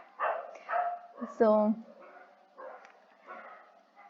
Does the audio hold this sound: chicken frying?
no